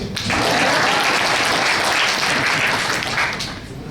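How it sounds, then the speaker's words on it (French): Audience at a business presentation applauding the technician, a loud, full burst of clapping that swells quickly, holds steady, then begins to fade. "Bon bel applaudissement pour le technicien."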